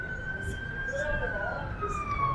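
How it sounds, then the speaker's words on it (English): Emergency vehicle sirens wail on a Blackpool city street on a Saturday night, a steady warbling tone carrying through background street noise, moderately distant and continuous. "I can hear them sirens going off."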